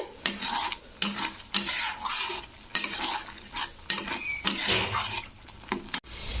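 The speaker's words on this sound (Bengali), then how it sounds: "তো এইভাবে লাউ পাতাটাকে নাড়তে হবে যতক্ষণ না লাউ পাতাটা একেবারে শুকনো হয়ে যাচ্ছে" Bottle gourd leaves stirred in a pan until dry, heard as a brisk, rhythmic run of metal spatula scrapes and clinks against the pan over a soft, low sizzle, loud and close, with no speech.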